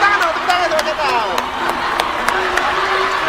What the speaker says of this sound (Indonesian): Tepuk tangan dong, tepuk tangan sama setan.